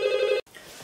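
A telephone rings with a bright electronic tone, loud and close for under half a second before cutting off abruptly into a quiet room.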